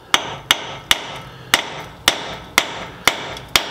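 A hammer strikes the CV shaft during a front wheel bearing replacement on a 2003–2011 Saab 9-3, eight sharp metallic blows landing at a steady pace about half a second apart, close up with no talk.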